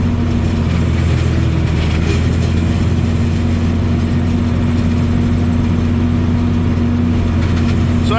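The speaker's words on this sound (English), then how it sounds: "So I'm running the tractor at a lot lower RPM than I normally." A tractor engine idles steadily at low RPM on a farm, a loud, constant low rumble with a droning hum and no change in pace, heard alone without voices.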